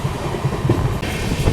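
Mumbai local train running along the tracks, a steady rolling rumble with rhythmic wheel clatter, close and continuous throughout.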